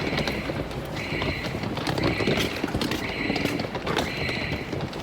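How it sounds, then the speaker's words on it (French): A shrill alarm pulses about once a second in short repeating bursts over a busy, noisy background. "c'est une alarme"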